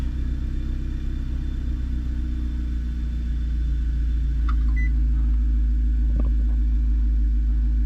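An Audi engine idles roughly with a steady, heavy low rumble and a slightly uneven pulse, close and constant, with a couple of faint clicks over it.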